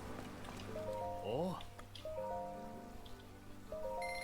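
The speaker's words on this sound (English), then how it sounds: "Why is it raining everywhere?" Rain falls steadily in the video game Zelda: Tears of the Kingdom, a constant soft hiss beneath a voice talking, with game tones chiming now and then.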